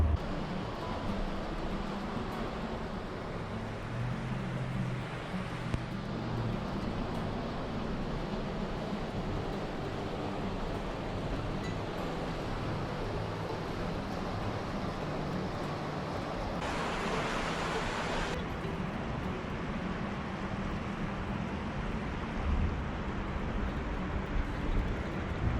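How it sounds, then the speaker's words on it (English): River flowing near an abandoned smelter ghost town, a steady broadband rushing wash that continues unbroken and fairly faint, with no talk. "River."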